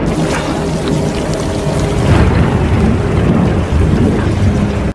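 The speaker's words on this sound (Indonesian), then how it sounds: "Kemudian hujan turun dengan deras" Heavy rain pours steadily over rumbling thunder in the film Alpha, a loud, dense roar of downpour with deep booming swells running through the whole stretch.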